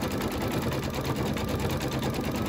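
An embroidery machine steadily stitches out a Halloween quilt block design, its needle chattering in a fast, even rhythm close by, with a faint high whine running underneath throughout.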